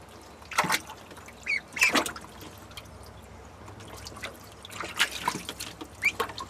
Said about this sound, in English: All the ducks are in a row, they're waiting for their turn.